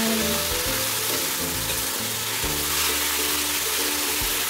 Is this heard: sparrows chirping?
no